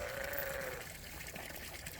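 Sheep on a pasture give a short, nasal bleat near the start, followed by a low, murmuring outdoor background with no further calls.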